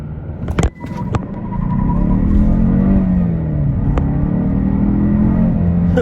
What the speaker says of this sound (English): Let me come to a stop right here, and then I'll give it a quick launch.